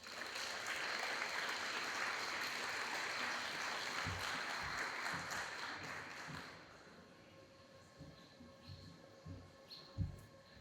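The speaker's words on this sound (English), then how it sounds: "Let's give Rita one more round of applause." Audience applause at an open house presentation, a sustained wash of clapping for about six seconds that stops abruptly, followed by a few scattered taps and thumps in a quiet room.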